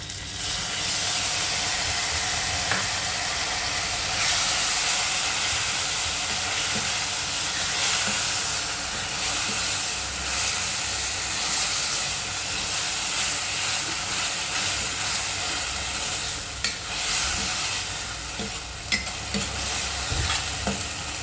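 Green masala paste sizzles loudly in hot oil with curry leaves and bay leaf for a Konkani urad dal ghuta, a steady close frying hiss broken by stirring scrapes throughout, with no talking.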